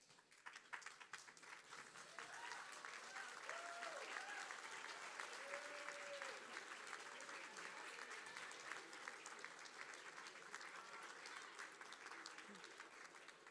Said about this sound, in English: take this opportunity to thank your support system with a round of applause.